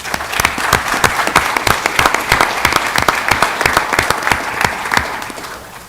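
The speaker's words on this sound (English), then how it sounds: "let's give all of our DECA finalists a nice round of applause" Steady, dense applause from a school board meeting audience honoring DECA finalists, many hands clapping close and loud for about six seconds before tapering at the end, with no talk over it.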